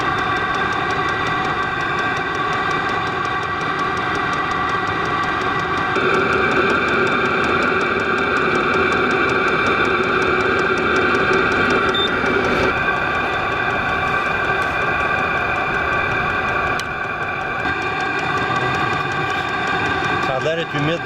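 A diesel heater running to preheat an aircraft engine, a steady loud whirring drone with tonal hum and occasional clicks, continuous throughout while a person talks over it.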